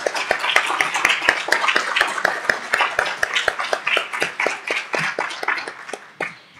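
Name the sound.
audience applauding after a lecture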